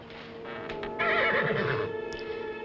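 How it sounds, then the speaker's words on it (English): A horse in the countryside lets out one clear, loud whinny close by, its quavering neigh rising and falling over soft hoof shuffling, with no talk. "Such a lovely horse, I couldn't resist making friends with him."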